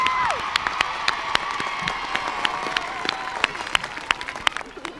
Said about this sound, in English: give yourselves a big round of applause and a big cheer now